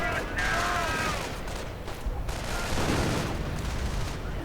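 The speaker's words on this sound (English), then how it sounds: "Seeing artillery going in against the other Grenadier squad." Dense battle noise in a WWII strategy video game, with rattling small-arms gunfire and artillery hits against an infantry squad, a continuous loud fusillade. A voice talks over it.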